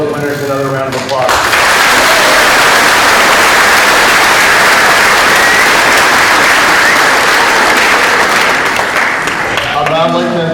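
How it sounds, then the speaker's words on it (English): A school promotion ceremony audience gives award winners a loud, sustained round of dense clapping that fills nearly the whole stretch, with a voice heard briefly at the start and end. "give all of our award winners another round of applause"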